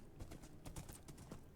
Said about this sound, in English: this horse up here making travel up on the nether roof that much quicker